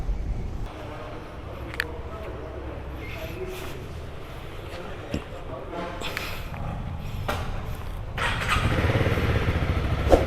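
A Honda CB 300 R motorcycle starts up and runs for a breakfast ride near Sullia, giving a steady low engine rumble under broadband outdoor noise that swells toward the end.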